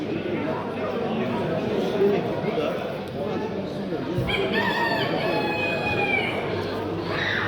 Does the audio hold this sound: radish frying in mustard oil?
no